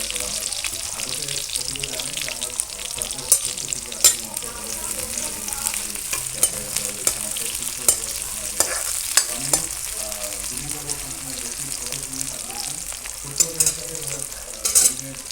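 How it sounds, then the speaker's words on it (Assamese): Sliced onions with fresh green and dried red chillies sizzle steadily in hot oil, a dense continuous crackle broken by frequent spatula scrapes and clanks against the pan throughout. "তেলখিনি গৰম হোৱাত এয়া মই পিঁয়াজখিনি দি দিছোঁ, আৰু লগতে মই কেঁচা জলকীয়া আৰু শুকান জলকীয়া যি কাটি থৈছিলোঁ সেইখিনিও দি ধুনীয়াকৈ অকণমান লৰাই ল'ম।"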